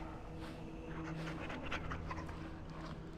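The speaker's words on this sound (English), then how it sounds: "He's been a good dog, so let's pet him." A dog in the video game Dragon Age: Origins pants and whimpers softly while being petted, with a steady close breathy rasp and no talking.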